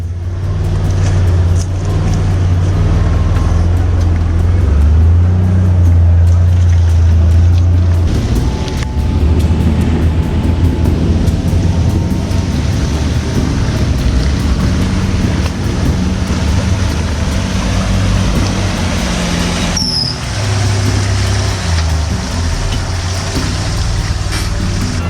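A 4WD vehicle creeps down a steep section of the Old Telegraph Track in Cape York, a low, steady engine rumble with rough ground noise and wind buffeting throughout, close and continuous.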